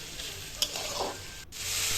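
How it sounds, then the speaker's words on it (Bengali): Carrots frying in hot oil in a wok give a steady soft sizzle, with a brief stir or scrape of the spatula partway through, close and fairly quiet, with no voices. "এদিকে আমি কড়াই গরম করে কড়াইতে তেল দিয়ে গাজরটা ভেজে নিচ্ছি।"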